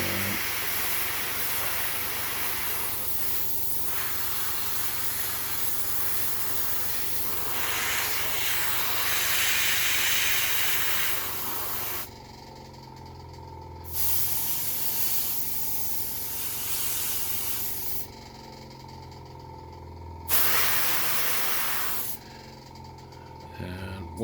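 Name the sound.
paint spraying onto Warhammer Eldar Farseer miniature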